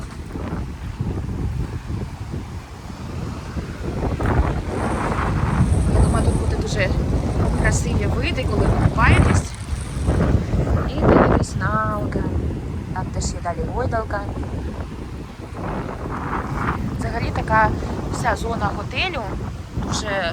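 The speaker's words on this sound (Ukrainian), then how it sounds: "Вітер сильний, але так красиво." Strong wind buffets the microphone in heavy gusts at a resort in Hambantota, Sri Lanka, with a voice talking over the rumbling roar throughout.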